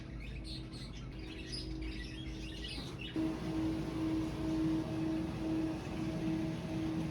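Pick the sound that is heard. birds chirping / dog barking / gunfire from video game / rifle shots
birds chirping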